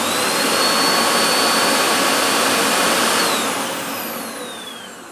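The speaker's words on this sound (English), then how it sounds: "Just going to see how noisy it is with the suction motor alone." A Hoover Velocity upright vacuum cleaner runs on its suction motor alone with the brush roll off, a loud, steady whine and airy roar that holds for several seconds before easing slightly toward the end.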